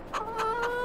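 Hens in the Farming Simulator video game cluck in three quick, close, fairly loud bursts over a steady tonal background.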